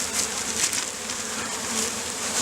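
Steady insect buzzing from many honey bees during installation of package bees into hives, a continuous droning hum that swells slightly at moments, with no voices.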